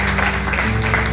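A church congregation applauds during a sermon, a brief wash of clapping over a sustained low musical hum in a reverberant hall.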